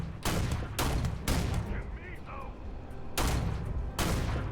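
Loud gunfire bursts from the space shooter video game Starfield, a few heavy volleys spaced across the moment with someone talking between and over them.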